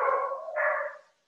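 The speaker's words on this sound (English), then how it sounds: "after my dog just finished losing their shit." A dog gives a short, two-part yelping bark, brief and moderately close, then falls silent.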